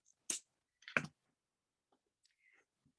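Beading wire is snipped at an angle with cutters, giving two sharp, close clicks about half a second apart, followed by faint small handling ticks in a quiet room.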